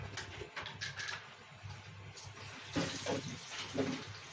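Water is poured into a pressure cooker of soaked chickpeas for Lahori chikar choley, a faint, soft splashing and trickling in a quiet kitchen with small bursts of pouring.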